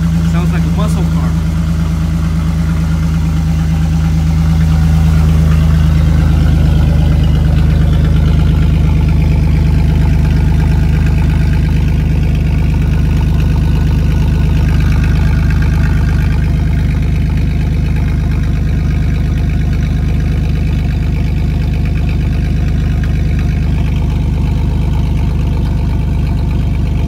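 Close and loud, a 1999 Chevy S10 truck with no catalytic converter idles with a deep, steady, throaty exhaust rumble, swelling briefly early on before holding even, with someone talking over it.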